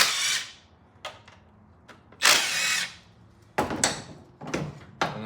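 A power tool zaps out the valve cover bolts on a 1996–2000 Honda Civic, with several close, loud whirring bursts of varying length separated by short pauses and light clanks.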